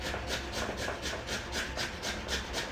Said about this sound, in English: I'm gonna grate the potatoes